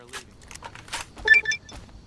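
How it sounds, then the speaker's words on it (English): A classic-style level-up jingle plays from a Fallout: New Vegas mod that restores the older Fallout sounds. It is a brief, bright run of electronic chimes and blips lasting about two seconds, with no voices. "Classic level up sounds does the same for the level up sound."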